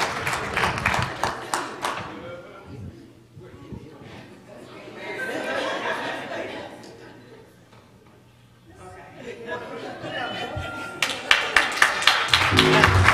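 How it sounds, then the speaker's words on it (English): A church congregation claps for Jordan, with bursts of applause at the start and end and murmured chatter and talking between them, the clapping growing crisp and near toward the close. "Let's give Jordan another round of applause"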